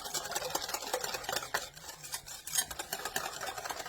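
A spoon works through sour cream New York cheesecake mixture in a bowl for an Instant Pot recipe, giving a steady run of close, scraping and sloshing strokes that continue without pause and with no talking.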